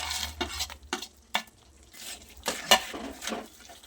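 Roasted flour for adadiya being stirred with mawa and edible gum in a pan, a spoon scraping and clinking against the metal in an irregular rhythm of close, distinct strokes with a faint sizzle beneath.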